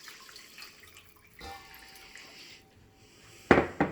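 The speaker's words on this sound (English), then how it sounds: "So what I have here is 2 cups of warm water. You can let that go in there like that." Two cups of warm water pour into a mixing bowl for roasted garlic bread dough, a soft trickle and splash, quiet at first and then a louder burst of pouring near the end.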